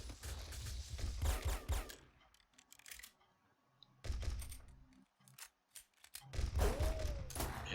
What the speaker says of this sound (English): The M79 is a grenade launcher. It fires very slowly, but because it's not interpreting the data properly, it's thinking of it as a rapid fire weapon.